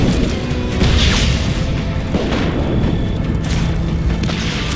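Loud, dense rumbling blasts of a grenade explosion in Just Cause 3 fill the clip, a heavy booming sound that stays intense with little pause.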